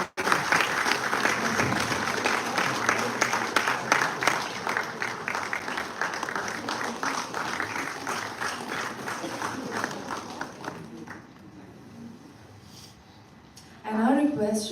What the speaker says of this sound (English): Can you please keep the applause rolling?